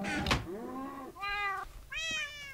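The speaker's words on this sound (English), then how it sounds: "Oh, these are yellow cats." Three separate cat meows from a yellow cat in Minecraft, the first short and the next two longer and rising, clear and close with brief pauses between them.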